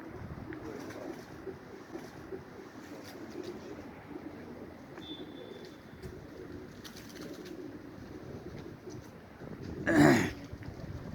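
Low, soft cooing of pigeons under a murky background hum, with one brief loud throaty burst near the end.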